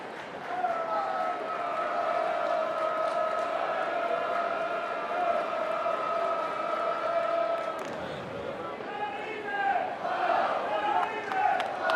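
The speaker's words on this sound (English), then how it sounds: "Big crowd, right?" Large crowd noise at a Duke vs Florida State college baseball game in a busy stadium, a steady, continuous murmur and chatter from many spectators with swells of cheering near the end, sustained throughout.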